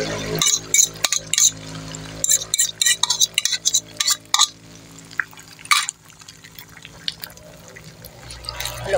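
Beaten egg poured into a pan with a little oil and stirred as it cooks, giving irregular bursts of sizzling and clinking from a utensil against the pan, with no talking.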